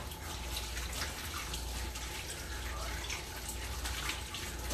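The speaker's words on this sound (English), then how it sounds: "let me just wash my hands and we can start." A tap runs steadily while hands are washed beneath it, a continuous close splashing rush of water at an even level with no voices.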